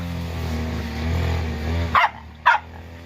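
Two sharp dog barks close by, half a second apart, after a stretch of steady low rumbling background noise.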